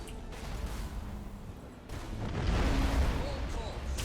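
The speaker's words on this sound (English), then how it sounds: "Torpedoes are gonna hit hard." Torpedoes strike ships in the space battle game Battlefleet Gothic Armada 2, heard as low booming impacts and rumbling explosions that swell in the second half.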